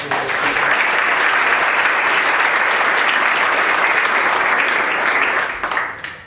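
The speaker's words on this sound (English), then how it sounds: "So congratulations, give them a round of applause." Sustained round of applause from the audience at a town board meeting honoring a group of coaches, parents and players; steady dense clapping filling the room for about five seconds before tapering off.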